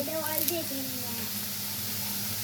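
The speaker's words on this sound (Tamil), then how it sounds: "வெங்காயம் வதக்குற சவுண்ட் நல்லா வதங்கட்டும்" Onions sautéing in a pan while cooking mutton chukka, a soft continuous hiss and sizzle running beneath a voice that speaks over the start.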